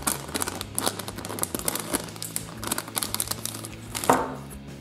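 A small plastic surprise packet of Hello Kitty collectibles is torn and crinkled open, with quick irregular crackles and rustles close up, no talking.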